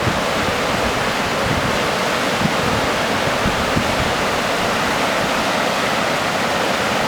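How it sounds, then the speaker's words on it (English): The Buffalo River in Victoria, running high, rushes as a loud, dense, unbroken roar of water, close and constant throughout with no voices. "At the moment there's a lot of water in the Buffalo River."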